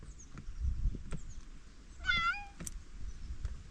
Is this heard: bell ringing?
no